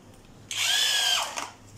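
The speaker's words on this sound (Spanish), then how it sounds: "estos tornillos que son para madera, lo vamos a ubicar, en este caso con taladro" A power drill drives wood screws into wood while assembling furniture, giving one steady, loud whining burst of motor and screw-driving that lasts about a second before trailing off, with no talk.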